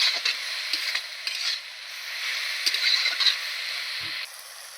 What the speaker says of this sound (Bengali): ভালো করে একটু মশলার সঙ্গে মূলোর ডান্ডাগুলো কষিয়ে নেব।